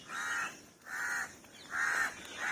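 A crow caws repeatedly near a village temple pond, four loud harsh calls spaced evenly about half a second apart, with no one speaking.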